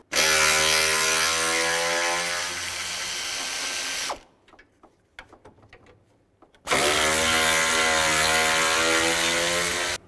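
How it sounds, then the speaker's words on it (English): Power ratchet spinning out bolts with a 10mm socket during radiator replacement on a 2006-2011 Cadillac DTS: a loud, steady mechanical whir that stops for a few seconds of faint clicks, then resumes just as loud. "Take these 4 bolts out. There's 2 on this side, 2 on the other side. Use a 10mm socket."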